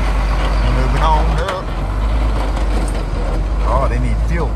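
Heavy trucks idle and creep forward at a scrap metal yard, making room for a fuel truck, a steady deep engine rumble with brief hisses, under people talking.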